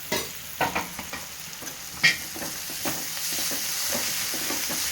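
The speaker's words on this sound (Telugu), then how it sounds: "ఇది పచ్చివాసన పోయేంత వరకు ఫ్రై చేసుకున్నాం" Ginger garlic paste fries in a pan with a steady low sizzle, punctuated by a few sharp scrapes and clinks of a stirring spoon early on, heard up close without talk.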